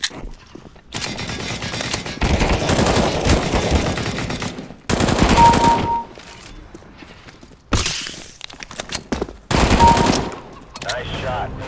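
Counter-Strike: Global Offensive deathmatch gunfire fills the scene with long automatic bursts and sharp single shots in loud, separate stretches, broken by quiet gaps and light game noises.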